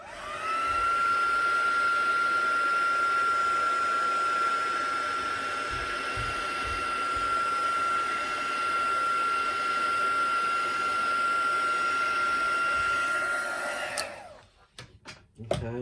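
A hair dryer blows on wet watercolour paint, a loud, steady close whine that holds for about fourteen seconds before switching off, leaving a few soft handling clicks.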